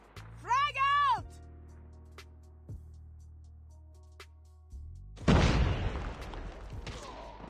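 Frag grenade explosion in the video game Call of Duty Mobile: a loud, sudden boom bursts out late, trailing into rumbling debris and noise, after quieter game sounds and a voice at the start.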